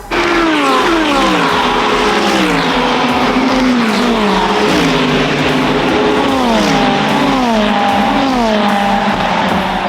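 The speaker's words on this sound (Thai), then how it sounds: "ตอนนี้เรากำลังรอรถวนมาฝั่งนี้อยู่" Formula 1 race cars at the German Grand Prix roar past one after another, loud and close, their high engine pitch sweeping up and down continuously as each car accelerates and passes.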